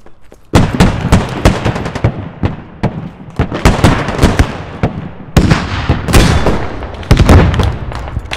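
An RPG-29 tandem rocket strikes an armored vehicle in a video game amid a barrage of sharp, loud cracks and bursts, dense repeated impacts and gunfire stacked close together.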